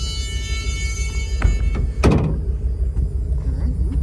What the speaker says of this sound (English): We can open up our rear door.